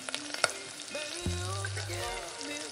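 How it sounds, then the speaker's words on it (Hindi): Green pea and gram flour snack frying in a little oil, a steady close sizzle with a few light utensil knocks and scrapes near the start. "तो यहाँ पे ये फ्राई हो चुका है इसे हम प्लेट में निकाल लेते हैं"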